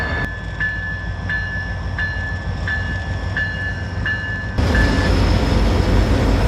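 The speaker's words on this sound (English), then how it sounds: "With our train departing Rapid City, it would then head north going towards Spearfish" An M&A Railway freight train pulls out of Rapid City, South Dakota, its steady low rumble carrying a regularly repeating high ringing tone, like a crossing bell, that stops near the end as the rumble grows louder.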